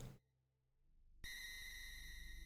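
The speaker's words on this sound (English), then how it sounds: "That's some Game Boy tones" Metroid: Samus Returns plays electronic chiptune tones in the style of the Game Boy. A brief burst is followed by near silence, then a bright, sustained, pulsing tone rises abruptly.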